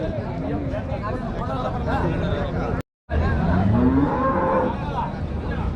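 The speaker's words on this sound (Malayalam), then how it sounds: "നല്ല അടിപൊളി ക്വാളിറ്റിയുള്ള ഒരു പശുവാണ്" Cows low at a dairy cattle sale, with a couple of moos rising over steady chatter and crowd babble nearby and a short silent break partway through.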